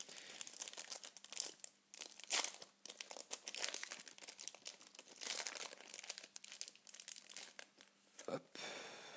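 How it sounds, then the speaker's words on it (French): A foil Pokémon booster pack, a Holon Phantoms EX pack, is crinkled and torn open up close, with sharp bursts of crackling and ripping that come in irregular clusters, with no talk. "Donc là, on va ouvrir le booster Léviator."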